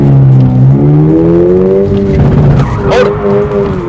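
Car tyres squeal and skid loudly during a handbrake side turn on a practice course, the engine revving under the continuous shriek for about four seconds.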